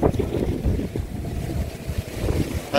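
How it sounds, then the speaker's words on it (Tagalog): Strong night wind gusting across an outdoor pool area at a country village resort, a steady roaring rumble with buffeting against the microphone throughout, no talking. "And it's very windy tonight."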